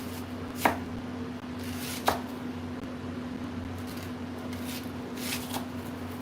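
Onions are chopped on a board, a few sharp, separate knife strikes spaced seconds apart against a quiet kitchen hum.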